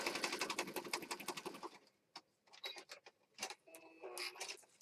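A sewing machine stitches wallpaper into a junk journal, running in a fast, even rattle of needle strokes, then stopping and giving way to scattered clicks and paper handling.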